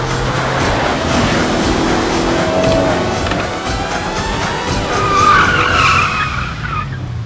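A car skids with loud, continuous squealing tires in an action movie scene, the screech sustained and close for about seven seconds.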